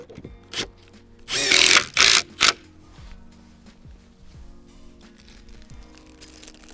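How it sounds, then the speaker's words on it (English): Power drill driving a screw through a wooden garden base board, heard as three short loud whirring bursts close up, surrounded by quieter workshop knocks and handling sounds. "Just feed that screw through the other side of the board so it's just out, and line up the pre-drilled hole."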